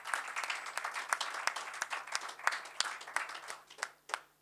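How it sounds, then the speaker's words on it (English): A round of applause from an audience at a tech community meeting in a hotel, with distinct individual claps standing out from the steady clapping before it thins and fades toward the end. "let's celebrate this achievement with a resounding round of applause for everyone involved"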